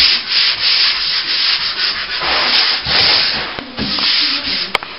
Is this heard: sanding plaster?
yes